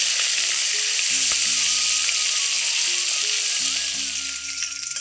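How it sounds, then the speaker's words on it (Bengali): Pieces of katla fish sizzle in hot oil, a steady, close, crackling fry that runs throughout and softens slightly toward the end, with faint tonal music underneath. "এইভাবে লাল লাল করে আমি ভেজে নিচ্ছি"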